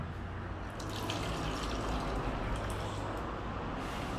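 Yeast solution poured from a container into a cut plastic bottle for a mosquito trap, a steady, close, rushing liquid stream that runs continuously without any talk.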